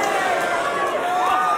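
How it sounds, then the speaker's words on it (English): Boxing crowd at a DAZN main event between John 'Scrappy' Ramirez and Luis Padilla, a steady loud roar of reaction filling the arena with a commentator talking over it. "you heard the reaction from the crowd"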